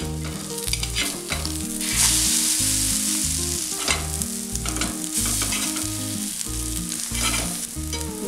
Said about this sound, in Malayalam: ഈ തവയിലേക്ക് കുറച്ച് വെളിച്ചെണ്ണ ഒഴിച്ചു കൊടുക്കാം. ഇതിലേക്ക് അടിച്ചു വെച്ചിരിക്കുന്ന മുട്ട ഒഴിച്ചു കൊടുക്കാം.